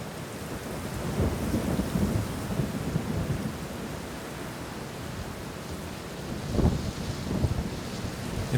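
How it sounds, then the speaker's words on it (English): Thunderstorm with steady rain in the game Planet Coaster 2, a dense continuous wash of rainfall with low thunder rumbles swelling around the middle and a stronger roll near the end, no voices. "It was a stormy night"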